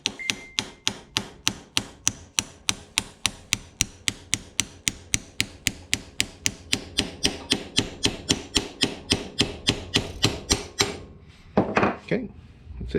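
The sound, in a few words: tapping an old bearing race onto a crank with a socket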